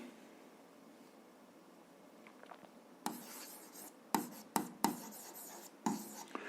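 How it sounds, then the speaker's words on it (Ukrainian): Writing out an algebra solution for a seventh-grade maths exercise: a few faint early strokes, then a series of sharp scratchy bursts of handwriting with short pauses between them, close and fairly clear, with no talking. "Ну, Давайте запишемо."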